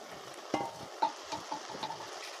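Jute-field greens wilting in a pan are stirred in a few short scraping strokes, with a low sizzle underneath and soft clinks between moves, close and fairly quiet.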